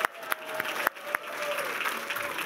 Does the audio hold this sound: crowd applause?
yes